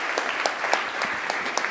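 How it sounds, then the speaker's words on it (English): An audience applauds panel witnesses at a citizen forum, a short burst of steady clapping from many hands at moderate distance with individual claps standing out. "A round of applause for them, and to all the people who participated in this panel."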